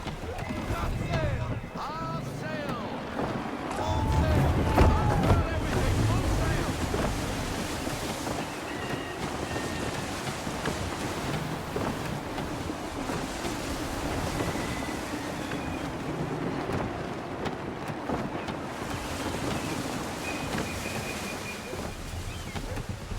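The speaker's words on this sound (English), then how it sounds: "Gusty winds can be difficult to manage." Gusty wind and sea waves surround a sailing ship in Assassin's Creed III, a continuous mid-level wash of surf and wind noise with a swell of louder water early on, under occasional spoken voices.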